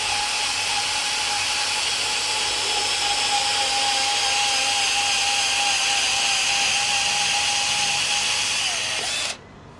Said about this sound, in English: So then we just cut the excess.